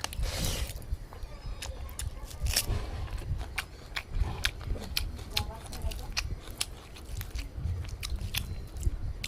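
Someone eats panta bhat, soaked rice with raw onion and green chili, close up. Repeated crisp bites and crunches come in an uneven rhythm with wet chewing between them, and a voice is heard at times.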